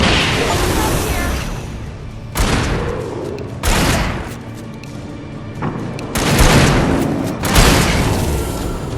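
Gunfire from the Alan Wake video game: repeated loud booming bursts and volleys at a rapid, uneven pace, with near shots over a constant rumbling background.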